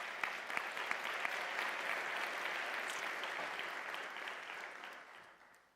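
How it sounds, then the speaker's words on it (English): A graduation audience applauds an honorary doctorate recipient at a university autumn ceremony, sustained crowd clapping from a large hall that fills the whole stretch and slowly tapers toward the end. "I think we deserve a round of applause."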